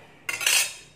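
A sharp metallic clatter as a pressure cooker lid is set down and fitted onto the cooker, one brief clanking contact followed by a short ringing rattle, close and fairly loud.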